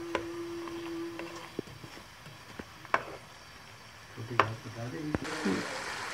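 Chicken nihari cooking in a pan over high flame, a soft sizzle with scattered clinks and scrapes of stirring, under a voice talking.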